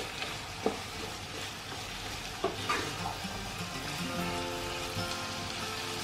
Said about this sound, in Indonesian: Kita aduk kembali.